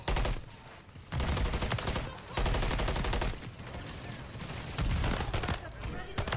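Bursts of rapid automatic gunfire from an MCW rifle in Modern Warfare 3, loud and close, coming in repeated volleys with brief lulls while a voice talks over the shooting.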